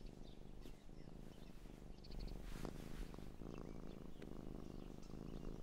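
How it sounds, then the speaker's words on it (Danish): A cartoon cat purrs in a steady low rumbling rhythm, soft and close, continuing throughout with faint chirping sounds in the background and no talk. "Han spinder. Det betyder, at han er glad."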